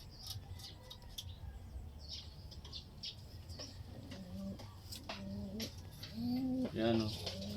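Racing pigeons coo in low, throaty bursts at a derby clocking loft, with several calls rising toward the end over steady background noise and a few scattered chirps.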